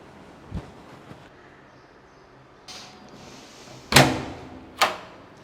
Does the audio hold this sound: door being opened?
yes